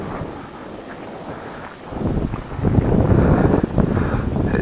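Wind gusts buffet the microphone during a Hubsan X4 Desire H502S drone flight, rumbling low and growing noticeably louder and rougher partway through.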